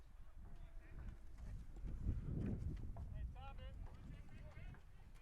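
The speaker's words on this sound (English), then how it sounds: "It is a windy day out here." Low, gusty wind buffeting a microphone at a varsity baseball game, swelling in the middle, with faint distant voices and outdoor noise underneath.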